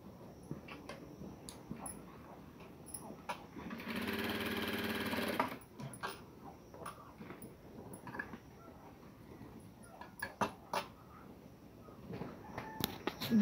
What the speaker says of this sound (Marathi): चला आपण टक्स मारून घेऊया.